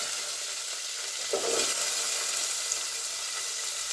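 Fenugreek seeds fry in hot oil for sambar, making a constant, even hiss of sizzling with a brief swell partway through, with no talking over it.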